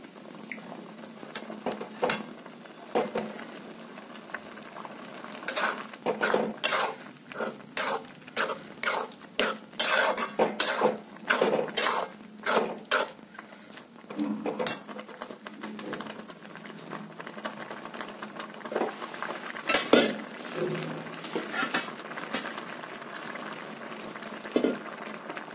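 A spoon scrapes and clatters in a kadhai of carrot halwa cooking down, with steady rhythmic stirring strokes over a soft simmering sizzle, close and continuous with no voices.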